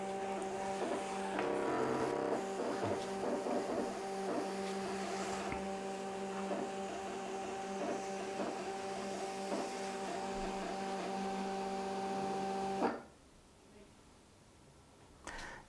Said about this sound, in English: And this is printing.